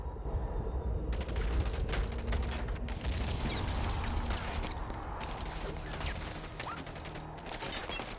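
Sustained automatic gunfire from units attacking a Nod power plant in the real-time strategy game Command & Conquer 3: Tiberium Wars, a continuous rattle of overlapping shots with mechanical clatter, steady and fairly distant, with no talk.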